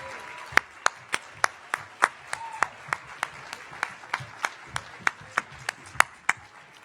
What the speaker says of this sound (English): big round of applause for them tonight